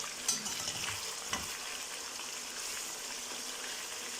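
Chicken frying in oil for a Peshawari charsi karahi gives a steady, close hiss of sizzling that runs without a break. A few short pops and stirring knocks come near the start.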